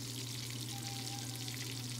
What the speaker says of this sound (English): Keep the oil in medium heat and fry the fish till golden brown.